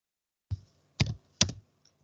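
Three sharp, close keystrokes on a computer keyboard, spaced about half a second apart, entering Linux commands in a quiet room.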